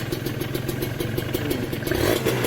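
A carbureted 150 cc two-stroke Thai sport motorcycle, a Serpico 150 SE or NSR 150 SP fitted with a standard PDK-style exhaust, revs close by in a steady pulsing rhythm, swelling louder toward the end, with no talk.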